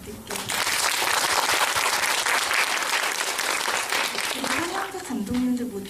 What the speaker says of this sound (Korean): 우선 먼저 박수부터 부탁드릴게요.